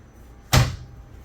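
A single sharp thud of a cabinet door shut inside a Montana 3623EB RV at an RV show, close and brief against a quiet background.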